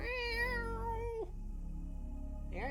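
A cat named Aaron gives a long meow that slides downward and cuts off, and after a short pause it starts another meow as the sound ends, close and clear over faint hum.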